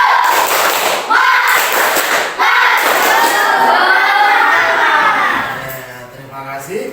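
Schoolchildren in a classroom perform the 'tepuk semangat' clapping cheer, a loud burst of rhythmic claps and shouted chanting in unison that fades toward the end.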